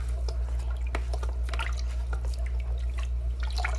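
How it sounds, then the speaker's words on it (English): Water drips and trickles from a wrung-out aquarium sponge filter into a bucket, scattered close splashes and dribbles over a steady low hum. "So I'm just going to wring out this sponge"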